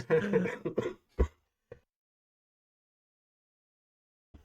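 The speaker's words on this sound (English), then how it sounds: "Making me laugh, made me cough." A short burst of speech is followed by a sharp single cough, a faint second cough, then near silence and a brief sound at the end.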